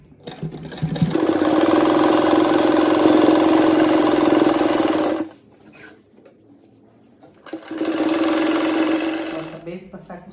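A sewing machine runs a seam across a patchwork rug in two steady, buzzing bursts, a long run and then a shorter one after a brief pause, close and loud with some low talk between.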